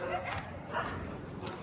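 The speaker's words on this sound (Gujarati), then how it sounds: "બધે જોરદાર કૂતરા લડે છે." Dogs fighting in a village, with short barks and yelps mixed into steady noise and overlapped by people talking.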